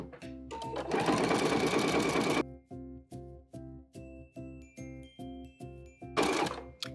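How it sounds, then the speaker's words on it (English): A sewing machine stitches the folded fabric ends of a beanie, a loud rapid mechanical chatter in regular rhythmic bursts with short pauses and a brief slower stretch, close up and without talking. "So we're going to sew both of these little ends shut."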